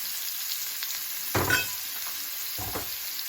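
Chopped celery dropped into a hot pan for dirty rice, giving a sudden sizzle that swells and fades, then a second shorter burst of frying and stirring over a quiet steady hiss.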